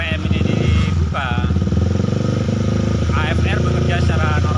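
A Honda Sonic motorcycle with a misfire at certain RPM runs loud and close, its engine throttled up into a fast, steady pulsing drone while someone talks over it.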